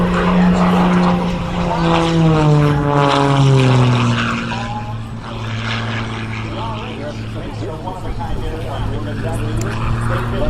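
Rob Holland's aerobatic propeller airplane performing a torque roll at an air show, its engine loud and near, pitch sliding steadily downward before settling into a rough, wavering drone, with an announcer talking over it.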